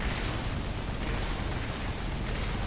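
Rumbling blasts of aerial bombing in the battle game AirMech Strike, a dense continuous roar of explosions with no pauses, loud and steady throughout.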